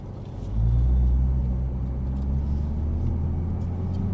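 Nissan GT-R creeping forward at low speed, a low steady engine rumble that swells after half a second and holds at moderate level.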